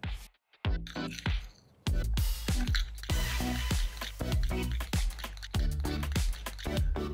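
Refined flour being mixed with cold water into a sticky paste for wonton skins, wet squelching and slapping squishes in a quick irregular rhythm, close and fairly loud, starting after a short pause.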